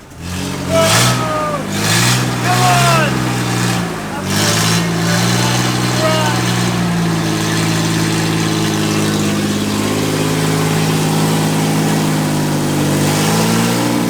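A 1989 Toyota FJ62 Land Cruiser engine fires up and revs in a few rising and falling bursts, then settles into a loud, steady idle.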